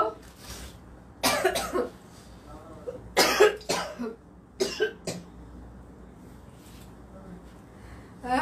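Several harsh, raspy coughs from someone with whooping cough, fever and a cold come in separate bursts, close to the microphone, with quiet pauses between them.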